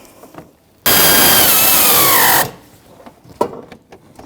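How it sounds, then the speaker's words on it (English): A powered tool drives a bolt on a 2007-2017 Jeep Patriot 2.4L radiator in one loud, steady whirring burst of about a second and a half, framed by quieter clicks and clanks of the tools. "I'm going to get my socket, finish it up. There we go. Put that bolt in. Let's see if we can snug it up."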